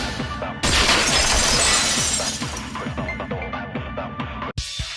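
A vase shatters in the Danganronpa video game, a loud, close crash followed by several seconds of scattering, tinkling fragments, with no talk.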